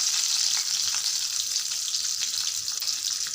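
Onions fry in hot oil with cinnamon and chilli, giving a loud, steady hissing sizzle with faint crackles throughout, close and continuous, with no voices.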